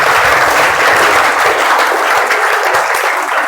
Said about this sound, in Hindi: बहुत जोरदार तालियां हो जाए